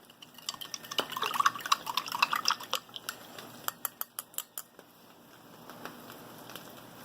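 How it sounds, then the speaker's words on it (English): A spoon stirs a fruity carbohydrate-electrolyte drink in a glass or cup, giving a run of quick, bright clinks and light liquid swishes that speed up, then thin out into slower, scattered taps, close and fairly loud. "Let's give it another stir."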